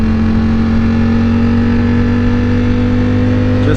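A Ducati Panigale V4S motorcycle engine drones steadily while riding, a loud, sustained mid-pitched hum with wind rush, constant and close without talk.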